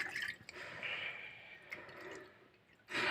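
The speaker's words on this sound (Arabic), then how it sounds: "وهنا غنعمرو الماء بالكاس، غنعبرو 2 كيسان الماء" Water is poured from a glass into a pot, giving soft splashing and trickling with a brief louder splash at the end.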